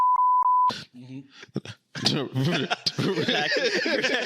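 A few sharp electronic censor bleeps, two short and one longer, at the start, then people talking and chuckling.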